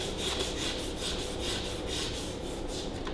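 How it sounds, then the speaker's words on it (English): 600 grit emery cloth rubbed gently back and forth on a Ferguson TEA20 engine part, giving steady, rhythmic rasping strokes about four per second, close and continuous with no talking. "I have got some 600 grit emery cloth, so I might just give them a little rattle around with that"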